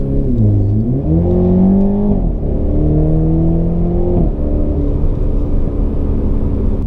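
A 2019 BMW Z4 sDrive30i four-cylinder engine, set to sports mode, revs loudly and steadily throughout, its pitch rising and falling in several sweeps as the throttle is blipped, with no talking over it.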